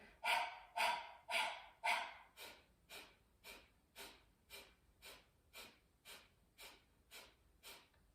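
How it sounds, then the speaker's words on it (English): Breath of fire yoga breathing during a meditation, a steady series of about fifteen sharp, rhythmic nasal exhales, loud and forceful at first and then softer and evenly paced, close up with no talking. "then the breath of fire"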